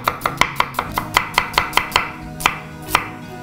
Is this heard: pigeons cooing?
no